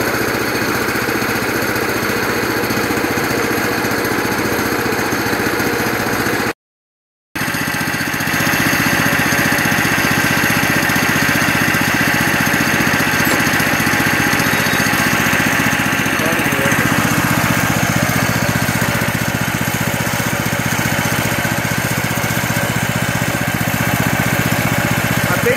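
A Predator 420cc engine fitted to a golf cart runs steadily for its first start, a loud, rough, continuous chugging drone with a brief break partway through.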